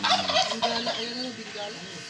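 A turkey gobbles repeatedly, rapid warbling calls close by and fairly loud, with no talking.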